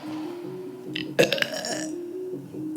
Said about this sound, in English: I asked you politely before we started if you could not burp like that on air